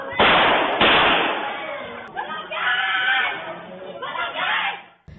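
CCTV captures a shooting in which a couple was shot: two sharp, loud bangs come in quick succession, followed by people shouting, all sounding thin and muffled through the camera's low-quality audio.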